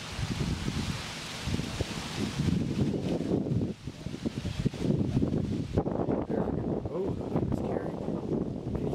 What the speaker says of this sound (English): That wind, there's a swirling winds out at Trojan.